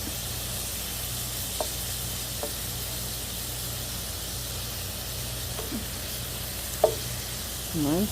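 Venison pieces browning in an electric skillet for stroganoff, giving a steady close sizzle and hiss throughout with a few soft clicks and stirring sounds, ending in a brief louder burst of spattering.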